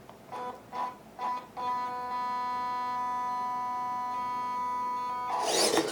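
A WPL Toyota J40 Land Cruiser RC toy truck runs its small electric motor: a few short whirring bursts, then a sustained steady high-pitched motor whine, ending with a louder rattling burst.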